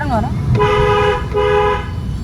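A car horn honks twice in steady tones, each about half a second long, over background chatter and street noise.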